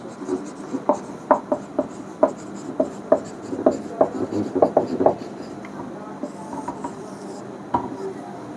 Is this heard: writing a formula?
yes